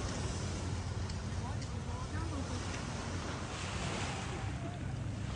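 Sea waves wash steadily onto a beach, a constant broadband roar with wind buffeting the microphone and no clear breaks between surges.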